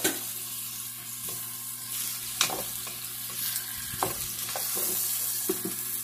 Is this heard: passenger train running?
no